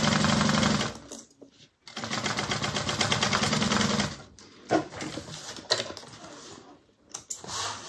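A sewing machine stitches a bag seam at a quarter inch in steady whirring runs, stopping briefly and restarting, then continuing in shorter bursts with pauses between them.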